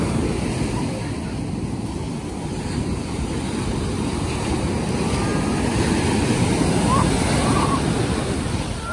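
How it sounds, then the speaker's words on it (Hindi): Ocean waves breaking close by on a beach, a loud steady roar of surf with heavy wind buffeting the microphone throughout. "और देखो कितनी तेज वेव उठ रही है"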